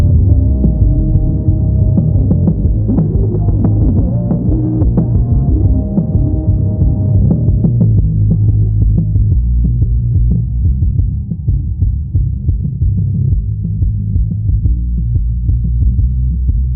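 Dense, heavily saturated low-end rumble and throbbing bass tones from a soloed low band of a multiband saturation plugin, all highs cut away, loud and continuous, no voices.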